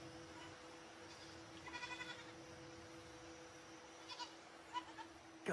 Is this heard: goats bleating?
yes